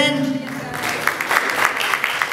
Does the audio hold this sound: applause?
yes